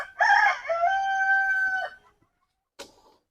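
A pet rooster gives one loud, close crow with harmonic, drawn-out notes lasting about two seconds, followed after a pause by a short clucking call from a backyard fowl in rural Bangladesh.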